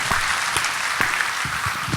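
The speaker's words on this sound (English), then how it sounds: "Can we get a round of applause for Al Gore, please?" Audience applause at a DefCon hacker conference talk, a dense steady wash of clapping lasting a couple of seconds with a few sharper individual claps standing out.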